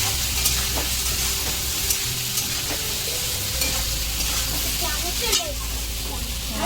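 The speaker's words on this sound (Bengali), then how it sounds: "আমার হলুদ দিয়ে আলুটা আগে ভেজে নিই।" Potatoes fry with turmeric in a pan, giving a steady, loud, close sizzle with occasional scraping stirs and brief voices in the background.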